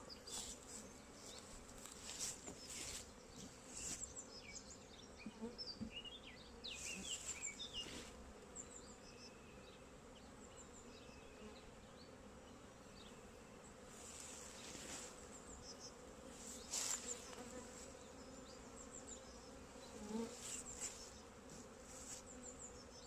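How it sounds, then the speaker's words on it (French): A dense, steady hum of many honeybees buzzing close by on a hive frame full of bees and brood, with individual insects droning louder as they pass, no talking. "Ici on a un cadre plein d'abeilles et de couvains"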